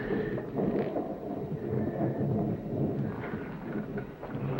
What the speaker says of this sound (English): That storm.